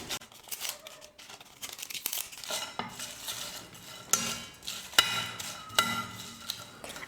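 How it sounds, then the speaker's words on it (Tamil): Whole garam masala spices and bay leaves dry-roast in a pan, heard as quiet, irregular scraping, rustling and light clinks from stirring, with a few sharper taps. "இப்போ இது எல்லாத்தையும் சேர்த்து நல்லா வறுத்துக்கிறேன்"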